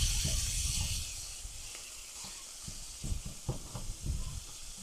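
Ground beef sizzles in a pan with a little olive oil, a steady frying hiss with soft crackles and some scraping or stirring knocks from a nearby stovetop.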